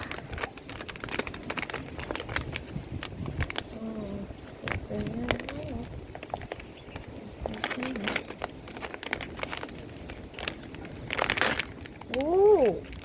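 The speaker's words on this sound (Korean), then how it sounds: "한번 뜯어볼게요" Plastic snack packaging crinkles and tears open in short bursts outdoors in the cold, with rustling handling noise throughout and people speaking at moments.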